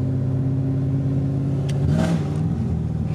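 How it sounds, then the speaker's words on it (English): A first-generation Cadillac CTS-V with open headers and a street pipe idles loudly, then gives a single sharp rev that swells and settles back, close and alone with no talk. "my car, if you didn't know, is basically open headers with a street pipe. So it's super loud"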